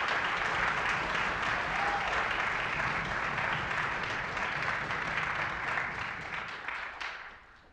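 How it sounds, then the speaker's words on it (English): An audience at a high school orchestra concert applauds steadily and densely for several seconds before the clapping fades out near the end. "Let's give them a nice round of applause"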